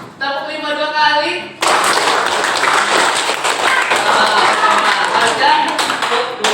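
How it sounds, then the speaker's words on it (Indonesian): Hands clap in a five-beat pattern, done twice, during a coaching and supervision session. The claps are loud and close and overlap with a voice, and a short tonal hum comes before them. "Ya, tepuk 5 2 kali."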